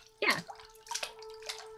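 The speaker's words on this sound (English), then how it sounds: "it really just sounds like you went into the tub and slapped your hand into it a couple times" Water splashing in a Sherlock Holmes puzzle video game, like a hand slapping bathtub water, with three short splashes spaced about half a second apart over a faint steady hum.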